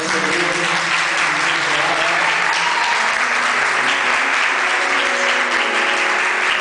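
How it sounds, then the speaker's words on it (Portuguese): After a baptism, a church congregation breaks into loud, sustained applause, a dense, even roar of many hands clapping that continues without a break. "Conclua a igreja numa salva de palmas"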